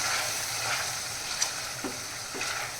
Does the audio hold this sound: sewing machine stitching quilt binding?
no